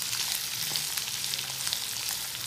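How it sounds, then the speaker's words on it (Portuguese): Tomato and onion sauté in a hot pan with bell pepper, a dense continuous sizzle and crackle close by, with a low hum underneath. "Vou colocar também a tomate. E a nossa cebola. Agora eu vou deixar refogar aqui mais um pouco."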